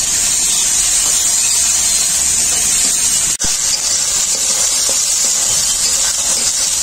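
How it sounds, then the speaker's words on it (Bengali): Spice paste with turmeric powder hisses and sizzles steadily in a pan after a little water is added, a loud, continuous, close steam hiss with one brief click partway through. "হলুদ গুঁড়ো, অল্প একটু জল দেবো মশলাটাকে কষানোর জন্য।"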